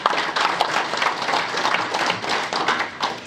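Applause from a symposium audience for a minister, dense and steady clapping from many hands filling the hall throughout, fairly close and loud with no break.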